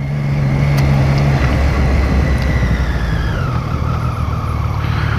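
A motorcycle engine revs high and hard, a loud, continuous roar with rising pitch held close to the microphone for the whole stretch, with no talking over it.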